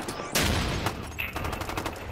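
Rapid bursts of P90 automatic gunfire in a video game crackle in quick succession, loud and close, with a harsh sustained rattle.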